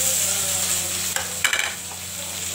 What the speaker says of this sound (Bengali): এবার নাড়ছি, টমেটোটা দিয়ে দিচ্ছি, আদাটা দিয়ে দিলাম